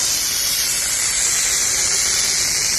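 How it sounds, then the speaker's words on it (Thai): A stainless-steel SP Stainless Design foam sprayer tank, pressurized to about 3 to 4 bar, spraying snow foam as a loud, steady, continuous hiss with no pauses. "เวลาเราใส่น้ำยาเข้าไปแล้วจะออกอย่างนี้ครับ ออกเป็นหิมะอย่างนี้ครับ"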